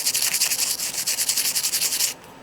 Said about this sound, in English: just to take your sandpaper once you're nearly finished and just buff that out